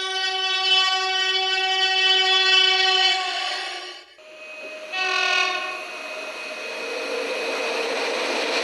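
A train sounds its horn at a railway station: a long, loud, sustained blast, then a shorter second blast, with station hum and rumble trailing behind.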